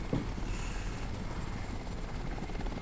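Helicopter in the Crysis multiplayer game, a steady low rotor and engine drone that holds at even loudness the whole time with no talk over it.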